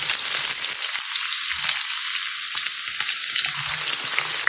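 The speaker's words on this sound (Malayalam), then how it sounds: "നമ്മുടെ ചൂടായി വന്ന എണ്ണയിലേക്ക് നമുക്ക് കുറച്ച് കറി ലീഫ് ഇട്ട് കൊടുക്കാം." Curry leaves, green chilli and chopped garlic crackle in hot oil while preparing a Kerala-style mutton curry, giving a steady, close sizzle with a brief dip partway through and no talking.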